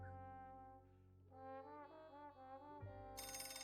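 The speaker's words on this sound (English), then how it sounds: "The phone began to ring just as I stepped into the empty salon." A telephone rings in the Piofiore video game, a melodic electronic ringtone of stepped tones building over a low hum, ending in a bright burst of chiming.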